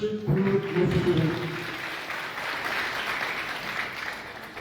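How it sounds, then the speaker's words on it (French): Audience applause at a weekly general assembly of a political party in Conakry, a burst of clapping that swells early, then settles into steady sustained applause with a few brief tonal sounds at the start. "Applaudissez pour nos fédéraux."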